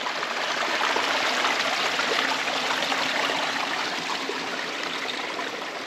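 A stream flows beside a hiking trail near a bridge, a steady, fairly loud rush of water continuing alone without pause.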